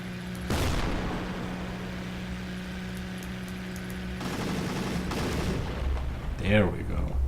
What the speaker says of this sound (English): That's a cute explosion.